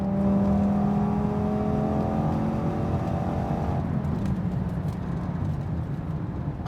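A 2012 Audi TT RS manual coupe on KW suspension cruising at speed, its engine humming steadily under tire and wind rush before the tone drops away and the drone softens into road noise.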